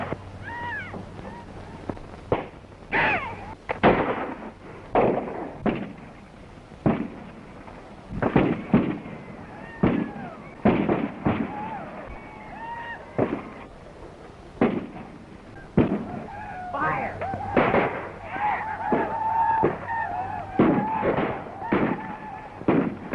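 Gunfire from a 1932 adventure film, with repeated sharp loud shots spread across the scene, some close together and some spaced apart, among shouting voices and other action noise.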